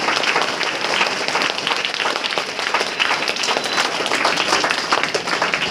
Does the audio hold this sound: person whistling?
no